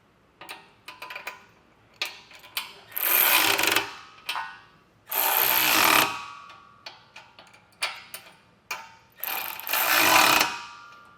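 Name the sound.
ratchet tightening running board bracket bolts on Toyota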